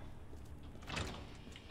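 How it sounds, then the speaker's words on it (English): A door opens in Resident Evil 2 Remake, a single short burst of movement near the middle over a steady low game ambience, with no talk. "This door is open now because we've brought power."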